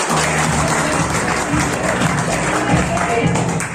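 Hearty applause from an audience at a Safe Shop business presentation, a dense, steady wash of clapping that holds for the whole stretch with a low murmur of crowd noise beneath.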